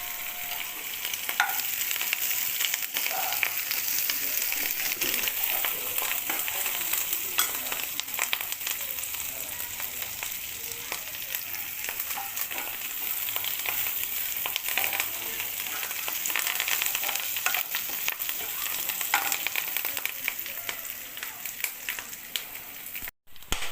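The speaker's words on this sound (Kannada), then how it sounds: "ಒಗ್ಗರಣೆ ಹಾಕ್ತಾ ಇದೆ, ಚೆನ್ನಾಗಿ ಈರುಳ್ಳಿ ಬೇಯಬೇಕು." Onion, green chillies and curry leaves sizzle steadily in hot oil for a tempering in a bamboo shoot stir-fry, a dense, even crackle with occasional stirring scrapes running throughout, alone without talk.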